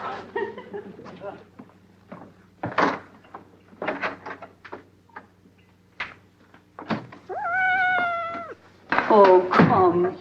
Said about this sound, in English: Oh, come here, little kitten.